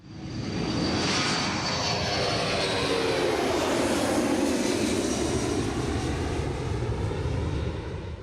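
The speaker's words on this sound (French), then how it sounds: "Dernière vérification pour l'équipage du C-135, le tanker est bon, décollage." A C-135 military tanker aircraft takes off, its jet engines roaring loud and steady throughout, with a broad rushing wash that swells and holds near the listener.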